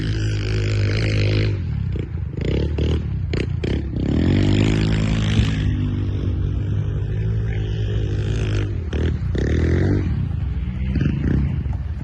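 A 2002 Chevy Avalanche Z71 on a 6-inch Rough Country lift with Bilstein shocks goes off-roading at LaGrange OHV Park. Its engine roars loudly and continuously, revving up and down close by.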